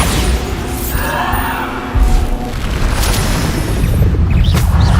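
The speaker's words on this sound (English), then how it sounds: "Bombarda!" Bombarda explosion spell in the Hogwarts Legacy video game: a loud, deep boom lands about two seconds in over constant rumbling battle noise, with a few sharper crackling hits near the end.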